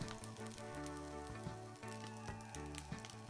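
A pan of Chinese-style egg fried rice sizzles steadily as oyster sauce goes in, a close, continuous frying hiss with a faint background hum and no talking.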